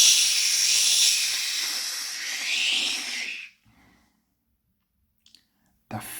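A cartoon steam engine named James suddenly lets off steam: a loud, sustained hissing burst for about three and a half seconds that fades out, followed by near silence and a brief clatter at the end.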